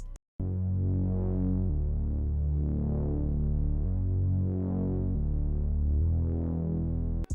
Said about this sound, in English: I added a very simple sub bass for the intro using the Mod Wheel Me preset in Serum again